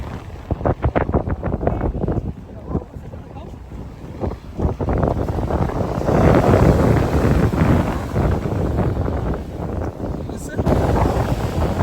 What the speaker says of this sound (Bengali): আজকে বাতাস এবং ঢেউয়ের গর্জন সব মিলিয়ে পরিবেশটা কিন্তু আজকে ওয়াও ওয়াও